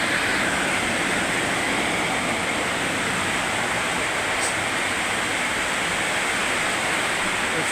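Heavy rain pours off a neighbour's roof that has no gutter in Dasmariñas, Cavite, making a dense, steady splashing roar that stays loud and unbroken throughout.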